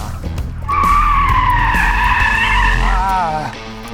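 Tires squeal in long, wavering tones as the rear of a Korean electric car (Genesis GV60, Kia EV6 or Hyundai Ioniq 5) slides out, loud and close over low road rumble, with the pitch warbling near the end.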